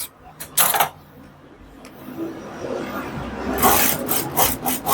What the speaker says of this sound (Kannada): ಫಸ್ಟ್ ಇದನ್ನ ಸ್ಟ್ರೈಟ್ ಆಗಿ ಕಟ್ ಮಾಡ್ಕೊಂಡ್ಬಿಡೋಣ